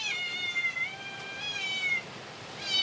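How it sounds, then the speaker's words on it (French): A small unnamed cat meows up close, giving a drawn-out plaintive call followed by a shorter one at the end, clear against a quiet background. "Il est là, petit chat, il a toujours pas de nom. Miaou."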